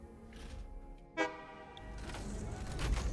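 In the Satisfactory video game, a train gives a short, sharp horn toot over a background of rolling rail rumble that grows louder toward the end.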